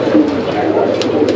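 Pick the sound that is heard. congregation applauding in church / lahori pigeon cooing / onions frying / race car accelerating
lahori pigeon cooing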